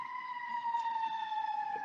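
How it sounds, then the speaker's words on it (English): A passing emergency vehicle's siren holds a steady wailing tone, loud and continuous throughout, with a faint layer of room noise beneath it. "sorry, I have a siren."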